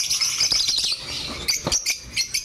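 Caged birds offered for sale chirp and tweet close by in quick, bright bursts that overlap into a busy twittering, with soft knocks and shuffles underneath and no voices.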